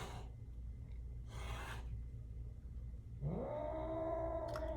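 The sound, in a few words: cats fighting and yowling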